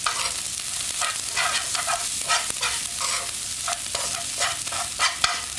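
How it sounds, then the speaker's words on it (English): Parsley gets stirred into crispy yeasty breadcrumbs and bacon fat in a hot pan, giving a bright continuous sizzle broken by repeated scraping stirs, close and fairly loud, with no voices. "I'm going to add some of the parsley. And this will kind of wilt the parsley down a wee bit"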